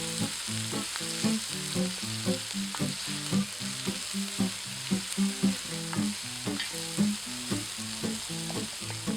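Onions sizzle continuously in a big cauldron over an open fire while a spoon stirs and scrapes in a steady, repeating rhythm.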